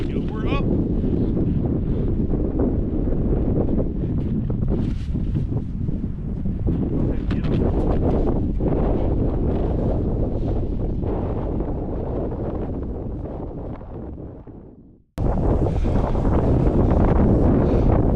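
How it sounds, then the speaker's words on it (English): Strong winter wind from the northeast roars steadily across the microphone at a remote wind turbine site, loud and buffeting throughout, cutting out for a moment near the end before gusting back in. "Wind is blowing this way, as it should in the winter, northeast, from the northeast."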